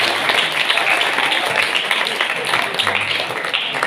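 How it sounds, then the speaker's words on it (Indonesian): An indoor audience applauds throughout a school principals' training session, with dense, steady clapping that stays loud for about four seconds and has voices mixed in. "Tepuk tangan dulu."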